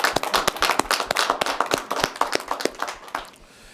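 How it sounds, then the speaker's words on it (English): Applause from an audience at a Chicago City Hall council gathering: quick, uneven hand claps that start strong and close, then thin out and fade to quiet near the end. "Let's give them a nice, warm round of applause."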